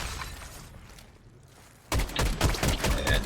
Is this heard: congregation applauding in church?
no